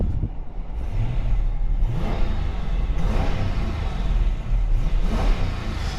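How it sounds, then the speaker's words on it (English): A Jeep Grand Cherokee with a 5.7 Hemi V8 rumbles with a deep, steady engine note, rising in a few short revs that swell and fall in waves, close and loud with no talking. "Actually, let you guys hear the engine noise."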